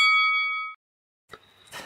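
A bright bell ding rings out once and decays over a moment, followed by silence and then a few soft clattering noises.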